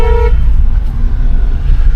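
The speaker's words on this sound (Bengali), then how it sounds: "আগে হর্ন মারো" A car horn gives one short, loud toot on a narrow hairpin hill road near Kalimpong on the way to Deolo Hill, followed by steady engine and road rumble.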